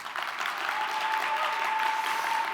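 Audience at a conference opening keynote applauds steadily for the whole stretch, a dense, even wash of many hands clapping at a fairly distant, roomy level.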